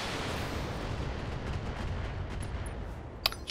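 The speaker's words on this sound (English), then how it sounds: "Rockets away." LRM missile salvo launches in the BattleTech mech combat game as a dense, rumbling roar of rocket fire close by, with a sharp crack near the end and no talking.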